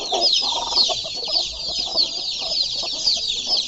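Desi hens and roosters in a pen with chicks cluck and squawk in repeated bursts, close and fairly loud, forming a lively farmyard chatter with no talk over it.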